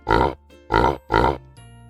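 A pig grunts three times in slow, even succession, each grunt a short, rough, close-up snort with a quiet pause between.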